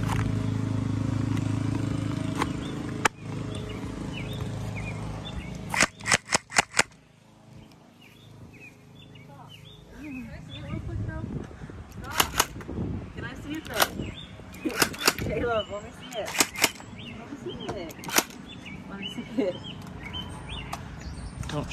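Orbeez gel blaster guns let off scattered single shots and short bursts, sharp cracks spread irregularly through the scene, with voices and background noise between them.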